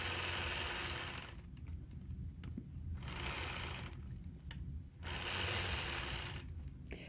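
A sewing machine quilts a crosswalk quilt block, its fast needle hum running in steady bursts with short pauses between, close and clear with no talk.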